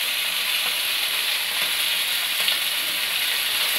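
Catfish fries in oil in a pan, giving a steady, loud, even sizzle and hiss that runs without a break, with no talking.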